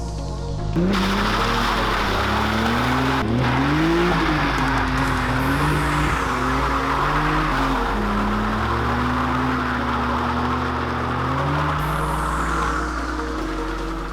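A Nissan 300ZX (Z32) twin-turbo engine with a manual transmission roars at high revs for a long, steady stretch during a burnout on worn tires, which squeal and scrub continuously, loud and close.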